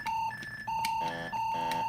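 Alarm from an Imagic game on the Atari 2600 console, a loud electronic tone that repeats in short bursts with a buzzing, stepped pitch pattern, alone and without talk.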